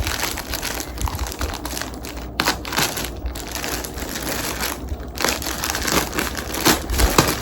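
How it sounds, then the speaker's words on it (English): Rustling and crinkling of plastic packaging as a white kurta set is unwrapped, with continuous crackly handling noise and brief louder crunches throughout, close and fairly loud with no talking. "Now we are going to unwrap this white one."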